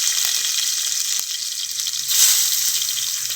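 Very hot oil sizzles steadily in a pan while tomato chutney is cooked, a bright continuous crackle with no talk, swelling a little louder near the end.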